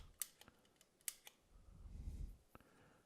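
An embossing label maker works metal tape, sharp metallic clicks and snaps from its lever, then a low rumbling pass and a final click as the tape is cut, close and fairly quiet.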